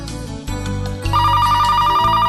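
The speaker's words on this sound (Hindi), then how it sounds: "जरूर पापा का ही फोन होगा।" A telephone ringtone plays loudly and alone, a repeating electronic ring tune with a bright tonal melody.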